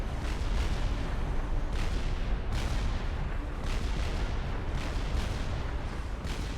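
Cannons of a land battleship firing in Supreme Commander: Forged Alliance, a continuous roar of heavy booms with rumbling low end and a few sharper blasts standing out, loud and dense throughout.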